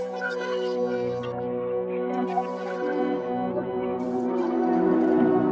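A bright vintage-style synth plays a flowing melodic phrase with sustained tonal notes and soft echoing tails, steady in volume throughout.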